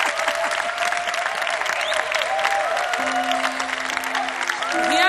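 A church congregation at a Congolese service cheers and applauds steadily, dense clapping mixed with shouts and whistles, with a sustained tone and some voices rising through the crowd noise.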